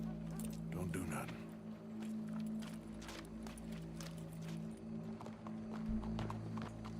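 Horse hooves clip-clop in a video game, a steady rhythm of light knocks over a constant low engine-like drone, with a brief burst of other noise near the start.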